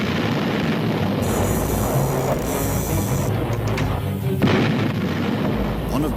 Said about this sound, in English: Bismarck responds with a series of salvos.